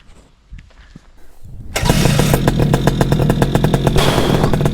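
A nitro model aircraft engine on a tarmac airstrip fires up after a short quiet stretch of handling noise, then runs loud and steady with a buzzy, rapidly pulsing tone that fills the rest of the clip.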